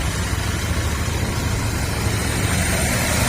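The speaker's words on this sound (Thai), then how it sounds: "ฟังเสียงเครื่องยนต์นะครับ" A 2019 Royal Enfield Interceptor 650 twin with 16,000 km runs at a steady idle beside a roadside shop, a close, even low-pitched rumble with a constant pulsing throb.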